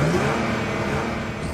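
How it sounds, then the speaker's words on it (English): A life-size radio-controlled car revs its engine up close, a loud steady mid-pitched engine drone with a brief rising rev at the start. "That is, in fact, a life-size radio-controlled car."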